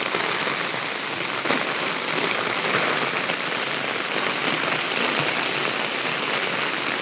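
Steady heavy rain pours down on a windy, rainy day at a rural cattle farm, a dense continuous hiss of drops hitting surfaces with no speech over it.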